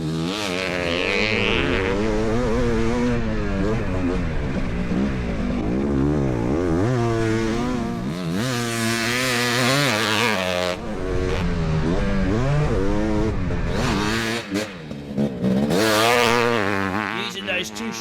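A 500cc two-stroke motorcycle engine ridden hard through a fast lap, its loud, rasping note rising and falling steadily through gear changes and corners, close by and sustained throughout.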